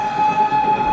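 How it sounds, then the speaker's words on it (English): Hogwarts Express steam train from a film, heard as a steady rumbling rail sound with a sustained whistle-like tone running through the whole second, fairly loud and without talk. "The Hogwarts Express!"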